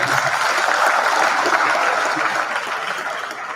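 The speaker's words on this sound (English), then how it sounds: "Sustain the applause for the acting vice chancellor and gentlemen" Audience applause fills a hall at the close of a university inaugural lecture, steady crowded clapping that continues evenly and eases slightly near the end.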